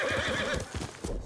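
A horse in the samurai game Ghost of Tsushima whinnies loudly and close after being called, its shrill neigh sounding over thudding hoofbeats as it trots up.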